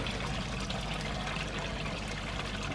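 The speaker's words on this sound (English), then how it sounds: "Water will come out." Water runs out of a pond filter hose after the filter is switched back on, a steady close gush and trickle with no voices.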